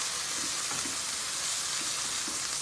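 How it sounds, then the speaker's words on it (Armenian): Onion frying in vegetable oil in a pan makes a dense, constant hissing sizzle, close and even throughout, with faint stirring touches and no voices. "հիմա կավելացնեմ տապակի մեջ, այսպես պետք է տապակվի սոխը"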